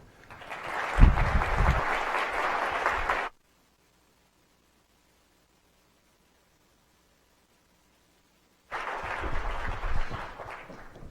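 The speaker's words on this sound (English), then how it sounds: "So would you, with your warm applause, please welcome Prime Minister of Italy, Prime Minister Gentiloni." An audience at a CSIS event in Washington applauds the Prime Minister of Italy with steady clapping, breaks off into silence for several seconds, then resumes clapping at a similar level.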